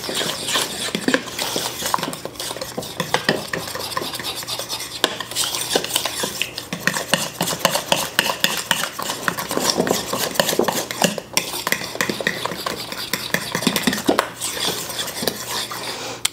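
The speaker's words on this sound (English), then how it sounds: "we're just going to mix this all together" A fork whisks a runny milk batter for pizza puffs in a bowl, with steady rapid clinking and scraping against the sides that carries on throughout, close and fairly loud with no talking.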